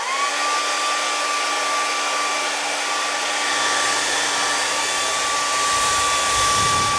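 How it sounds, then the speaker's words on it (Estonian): A hair dryer blows in a steady, loud whoosh with a constant motor whine, running alone and unbroken for several seconds. "kui me räägime föönist, mis teeb 70 detsibelli"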